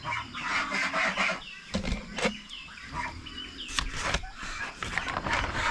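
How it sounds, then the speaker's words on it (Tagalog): Turkeys and ducks sharing a farm pen make intermittent honks and clucking calls, scattered bursts at moderate distance over a busy background of rustling and other barnyard noise. "Tapos dito pabo at saka pato yung nagsama-sama sa paglindig"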